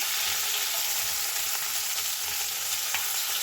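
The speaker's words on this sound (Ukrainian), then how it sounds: "Смажиться з іншої сторони вже." Steady, dense sizzling of chicken thighs frying in a hot pan, continuous and close, with no voices.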